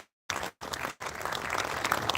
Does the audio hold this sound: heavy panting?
no